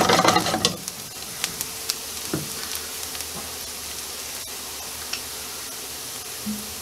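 Shallots hit a hot pan for elk shanks with a bright burst of sizzling and stirring, then settle into a quieter, steady fry with a few scrapes and clicks.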